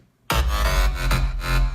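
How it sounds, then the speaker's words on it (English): A synth bass line processed with a flanger that gives it a vowel-like, wah-ish sweep, produced in FL Studio for a track; loud and sustained after a short silence, with rhythmic swells and no voices. "the bass line that's done with the flanger"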